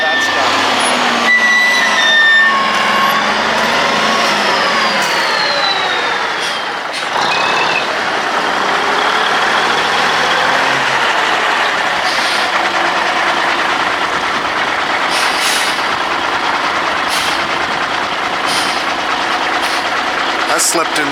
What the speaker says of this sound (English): a truck just showed up for some hay